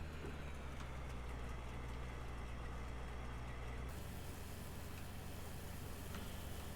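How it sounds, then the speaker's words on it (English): A tractor engine from Farming Simulator 2019 drones steadily as it drives toward an auger trailer. The loud continuous hum shifts in tone partway through, with no talk. "We are going to speed our way over to our auger trailer over here with our tractor attached to it."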